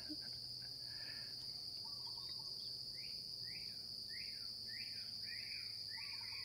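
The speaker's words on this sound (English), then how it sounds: "I love those birds." Songbirds in a South Pacific island rainforest give a series of repeated rising chirps, clear and moderately near, over a steady high insect drone and a low background hum.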